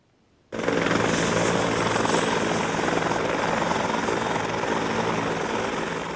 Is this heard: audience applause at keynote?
no